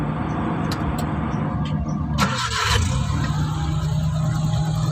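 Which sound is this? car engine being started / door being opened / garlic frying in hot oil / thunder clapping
car engine being started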